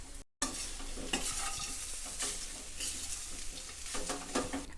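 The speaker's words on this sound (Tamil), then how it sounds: "இந்த ஸ்டேஜில் நம்ம வந்து தேங்காய் பூவை சேர்த்து ஒரு முறை கலந்து விட்டுட்டு ஆஃப் பண்ணிடலாம்" Grated coconut being stirred into sautéed tender jackfruit in a pan, a steady sizzle with scraping spoon strokes recurring every second or so, close and alone.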